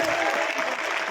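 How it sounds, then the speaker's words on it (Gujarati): Dense applause from a large crowd at a Kshatriya community gathering in Patan, a steady, loud wash of clapping hands filling the whole moment without pause. "તાળીઓના ગડગડાટથી વધાઈએ."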